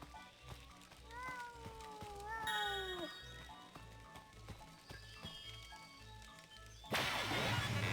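A cat meows inside a suspicious machine in the video game Sir Whoopass, giving several rising and falling tonal cries over a steady game soundscape, which ends in a loud burst of noise.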